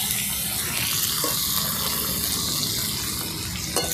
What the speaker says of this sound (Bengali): লবঙ্গ আর দারচিনি ফোড়নে দিয়ে দিচ্ছি। টমেটো কুচিয়ে রেখেছিলাম, সেগুলো দেবো।